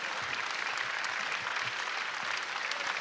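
Steady, even clapping from Melbourne Tigers supporters in an indoor arena after the 2018 National Junior Classic U18 boys grand final, with a dense crowd sound and no breaks.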